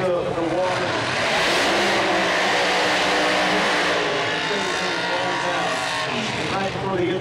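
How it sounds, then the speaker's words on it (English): A heads-up drag race car, a nitrous Corvette at the 2004 NHRA Thunder Valley Nationals, rolls through the water box and does a burnout, its engine roaring loud and steady throughout beneath a commentator's voice. "The first difference begins with the burnouts"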